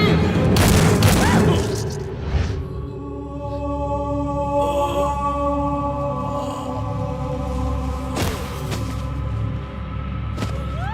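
Heavy gunfire in a Tamil action movie scene, with loud booming shots and a rapid fusillade at the start, then echoing blasts and rumbling over a music score, with a few voices mixed in.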